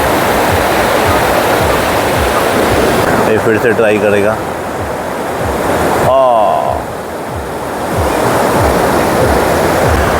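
Powerful surf on a Bali beach rolls and crashes in a continuous loud roar, with big waves breaking steadily throughout while someone talks over the noise.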